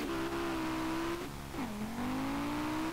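A modified Ford Ka in the SLRR racing game revs hard and steadily, its engine note climbing, dipping briefly around a shift, then rising again, loud and close with no talk over it.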